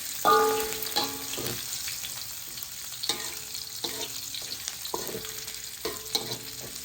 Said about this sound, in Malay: kemudian saya masukkan bawang putih.